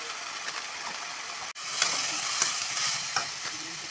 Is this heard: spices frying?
yes